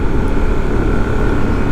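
A 2024 Harley-Davidson CVO motorcycle engine pulls hard in second gear at about 45 mph, near 5,500 to 6,000 rpm. The engine makes a loud, steady, close drone mixed with road and wind rush, with no talking.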